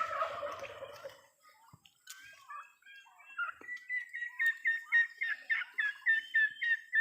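A turkey gobbles in a rapid run of rhythmic, throaty calls, repeated bursts growing louder after a few scattered bird sounds and brief faint noises.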